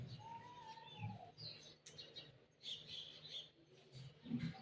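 A pet parrot calls in short chirps and tweets with a whistled note, fairly faint and near, over quiet household background noise.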